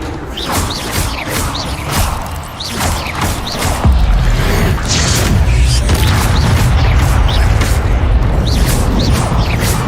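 Spell effects in the game Hogwarts Legacy: loud booming impacts, whooshes and crashing bursts that pile into a dense, continuous roar in the second half.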